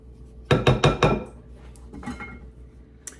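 Homemade ice cream base is being mixed, with four quick, loud clinks of a utensil knocking against a dish, followed by softer scraping and a last light tap, with no voices.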